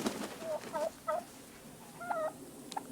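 Turkeys on a farm with goats nearby give soft, fairly distant clucks and short gobbling calls in several scattered bursts, with no talk over them.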